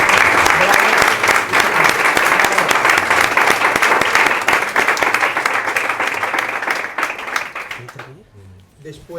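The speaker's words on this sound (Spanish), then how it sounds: "Y yo quisiera pedir un aplauso" A conference audience breaks into sustained clapping, loud and dense at first, then gradually thinning and tapering off into near quiet by the end.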